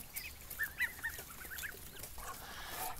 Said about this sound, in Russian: Здесь наши голубые мускусные уточки. И лавандовый селезень.